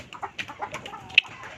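Chickens cluck in a garden vegetable patch among lettuce and chili plants, a series of short, moderately close clucks with one sharper squawk partway through.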